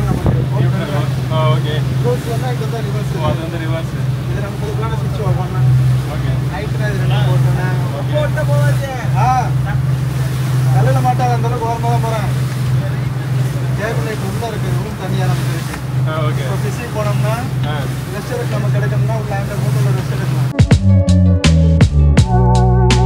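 A yacht motors along at speed while fishing, with a loud, continuous engine and water rush underneath ongoing conversation, and a rhythmic clicking burst at the very end.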